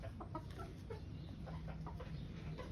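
Chickens on a backyard farm, including three-month-old birds, clucking in short scattered bursts over steady low background noise.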